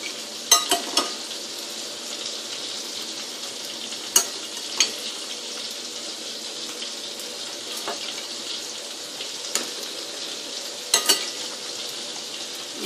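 Chicken meatballs dropped into a bubbling curry sauce in a pot, a steady close simmering hiss broken by a few soft plops and clicks, no talking.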